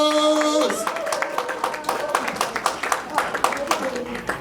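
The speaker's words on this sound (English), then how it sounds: "Clap for Jesus." A church congregation claps along in a steady rhythmic beat after a sustained sung or shouted tone, the clapping continuing under voices.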